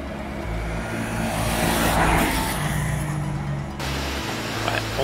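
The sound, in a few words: sport motorcycle engine on throttle through curve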